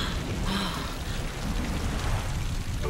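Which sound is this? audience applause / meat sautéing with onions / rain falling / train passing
rain falling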